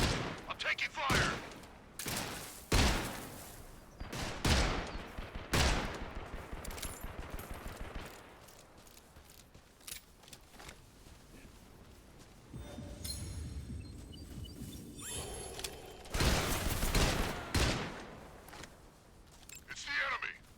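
Gunfire in the Metal Gear video game, bursts of loud automatic and single shots crackling in rapid succession, with sustained firing and clinks in between, while a player talks over the action.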